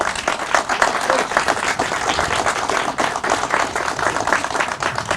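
Sustained applause from a crowd at a downtown revitalization event in Batavia, New York, a steady dense clapping throughout.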